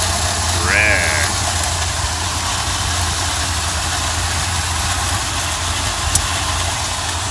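Chevrolet K5 Blazer engine idling steadily, a low continuous rumble close by with a brief chirp near the start.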